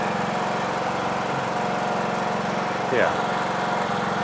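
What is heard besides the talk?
old John Deere tractor engine running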